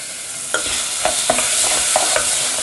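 Tomato paste is stirred into onions and tomatoes frying in a pot, with a steady close sizzle broken by several sharp scrapes and clicks of a spoon against the pan, and no talking.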